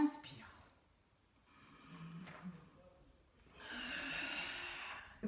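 Breathy inhalation during an intermediate Pilates session with an elastic band: soft airy breaths, a longer, steadier intake near the end, close and quiet.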